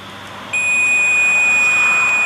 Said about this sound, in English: the unit emits a constant warning beep, alerting you to change the batteries